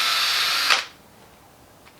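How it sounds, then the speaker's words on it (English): A power drill whirs at high speed, buffing and polishing a car headlight, then winds down and stops partway through, leaving quiet with a faint tick at the end. "I'm going much faster, much less pressure on the drill"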